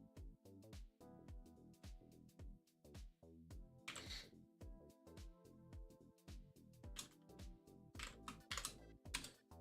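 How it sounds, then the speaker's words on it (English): Typing on a computer keyboard comes through faint and irregular under louder tonal, stepped background sounds. Brief clicky bursts break in at intervals. "I'm just typing this out"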